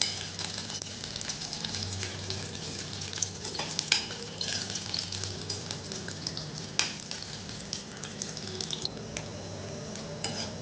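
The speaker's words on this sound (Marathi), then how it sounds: "मग आपल्याला हे खोबरं तेलामध्ये परतून घ्यायचं आहे" Grated coconut fried in oil over medium heat for a crab curry, a steady close sizzle with frequent crackles and occasional scraping clinks of a spoon against the pan.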